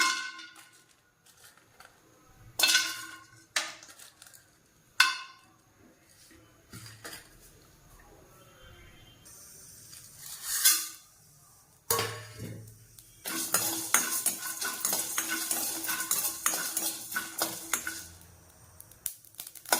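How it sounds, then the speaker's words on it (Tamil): Whole spices are dry roasted in a pan, with sharp metallic scrapes and clangs of a spoon against the pan at irregular intervals, then a stretch of busy, continuous stirring and rattling toward the end, close and with no talking. "இப்போ நான் ஒரு பேன் வச்சிருக்கேன். இதில் இந்த ஸ்பைசஸ் எல்லாம் நான் வறுத்து எடுத்துக்கிறேன்."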